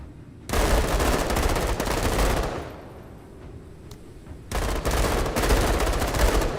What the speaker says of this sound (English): That's where the laser rifle comes in.